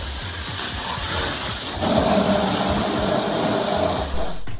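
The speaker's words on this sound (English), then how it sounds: "I bet the water felt nice sprinkling down" Water spraying hard from a broken pipe at a worksite, a loud steady hissing spray that holds for several seconds and swells a little midway, heard alone without talk.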